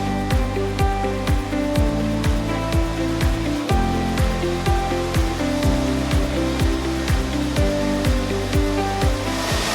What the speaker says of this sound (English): You might hear the Spider adjusting its RPMs.